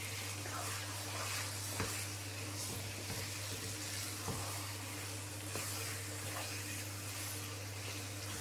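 Lamb keema with chopped coriander sizzles steadily in a pan on the stove, a soft continuous frying hiss over a low hum with a few faint clinks, and no talking.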